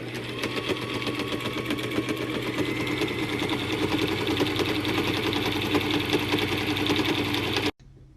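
A sewing machine stitches the edges of thrifted shorts in one continuous, fast, buzzing run, loud and close, stopping abruptly near the end.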